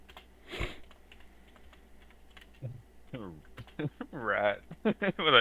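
Scattered computer keyboard clicks, fairly faint, with a person talking over them, the speech growing louder toward the end.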